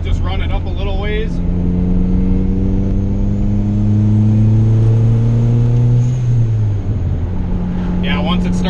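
Turbocharged Honda Integra GSR engine with VTEC disabled, revving up steadily under load on the street, its pitch climbing smoothly over several seconds before it backs off, loud and close, with a voice briefly at the start and end.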